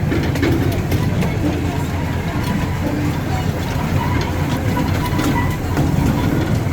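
Iron Horse amusement park train at Niagara Amusement Park rolls along its rails, a steady rumbling ride noise with faint rhythmic clatter, recorded from on board, with voices mixed in.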